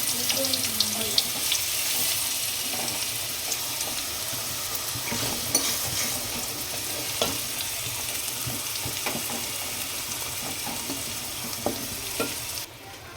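Potatoes fry with spices in oil in a pot, producing a continuous close sizzle with occasional light stirring clinks and scrapes throughout.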